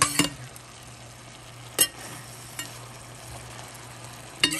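Mung bean sprouts and beef strips stir-frying in a pan, a steady low sizzle broken by a few sharp clatters of a spatula against the pan, with no voices.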